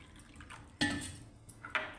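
Water is poured from a bowl onto half a bowl of masoor lentils in a pot, giving short splashy pours and a light clink of vessels, close and fairly quiet.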